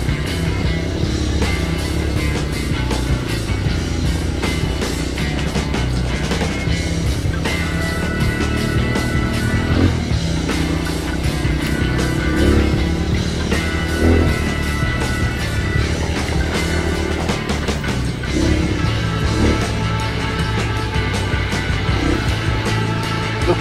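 A motorcycle ridden in Burias, Glan, Sarangani Province, its engine a steady continuous drone throughout, close and loud with road and wind noise and no talking.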